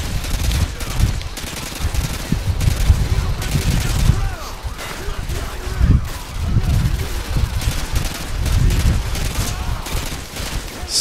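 Sustained gunfire in Call of Duty: Modern Warfare 2, with dense automatic bursts and heavy booming shots rolling continuously, loud and near, as voices speak over the fighting.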